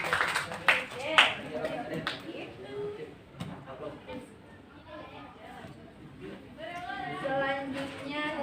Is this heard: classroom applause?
yes